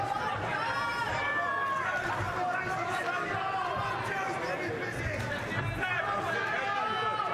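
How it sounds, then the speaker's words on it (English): A boxing crowd at a Hughes versus Martin fight roars and chatters steadily throughout, a loud, dense arena babble with shouting voices mixed in. "Hear the crowd there"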